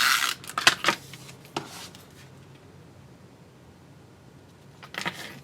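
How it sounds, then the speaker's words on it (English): A snail adhesive tape runner rolls across card stock and designer paper while a thank-you card is assembled. Short scratchy clicks and rasps come in a quick burst at the start, then return briefly near the end after a quiet gap. "So I'm going to get out my snail adhesive."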